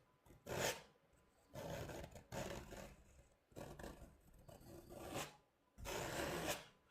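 A painting knife scrapes wet oil paint off a canvas in about five separate rasping strokes, each close and gritty, separated by short pauses.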